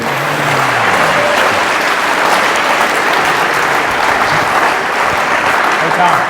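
An audience applauds pitch participants at a startup pitch event: dense, steady clapping fills the whole stretch at close range.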